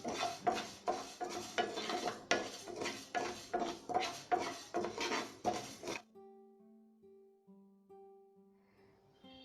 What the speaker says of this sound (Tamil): நெக்ஸ்ட்டு ஜீரகம் லேசாக வறுத்தா போதும், நிறையா வறுக்க வேண்டாம்